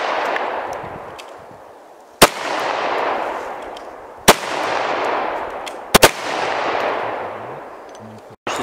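Four sharp gunshots from a firearm fired outdoors, the second and third spaced about two seconds apart and the last a quick double report, each leaving a long fading echo.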